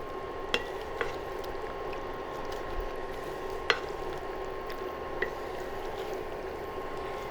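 Beef and tapioca stirred together in a pot, a steady low sizzling bed with a few sharp scrapes and clinks of the spoon against the pot, close and even throughout.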